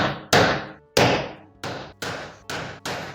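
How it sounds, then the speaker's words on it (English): A hammer strikes the outer drum of a washing machine during a drum repair, fitting the inner drum's shaft. Six loud, ringing metallic blows land about half a second apart, each decaying before the next, with no talk. "I will hit the outer drum with a hammer so that the shaft of the inner drum settles properly in the outer drum."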